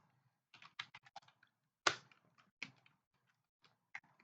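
Quiet, irregular clicks of typing on a computer keyboard, a short burst of keystrokes with one sharper tap midway, close and alone with no talking.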